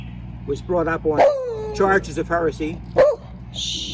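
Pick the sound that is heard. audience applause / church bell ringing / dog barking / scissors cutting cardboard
dog barking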